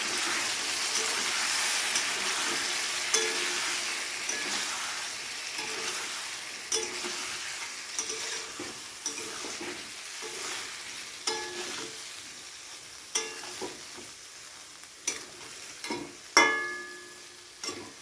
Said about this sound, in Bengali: ভেজে রাখা পটলগুলো দিয়ে সামান্য জল দিয়ে পটলগুলোর সাথে মশলাটাকে খুব ভালো করে আবারও একবার কষিয়ে নেব।